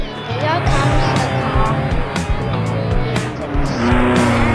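Car tires squeal and skid loudly in the Turbo Dismount video game, with racing engine noise and sharp crash-like bursts mixed in, while a person talks over the action.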